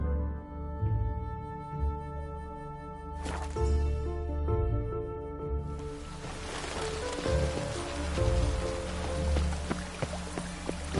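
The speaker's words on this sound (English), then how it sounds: "Witches have conjured rain again." Rain falls in the Witcher 3 game world, a soft hiss of drops on surfaces that builds and thickens halfway through, with a faint musical drone underneath.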